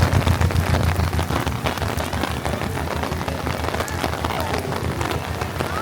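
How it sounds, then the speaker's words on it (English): Steady, heavy rain patters on hard surfaces nearby at Disneyland, a dense continuous hiss with scattered louder drops. "It's proper raining at Disneyland."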